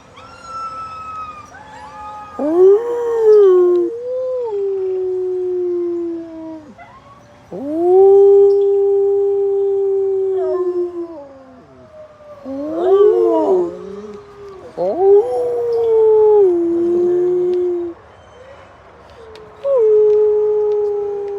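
Several long, mournful dog howls rise and fall in succession, close by, with short yips and whines mixed between the sustained notes.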